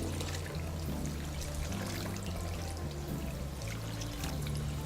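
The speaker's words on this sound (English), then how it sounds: "We wash with hot water first so that the dirt and all the accumulated dirt can all be melted away." Hot water pouring steadily over hair held in twists during a salon wash in Kampala, a continuous close splashing wash over a low humming background, with no talking.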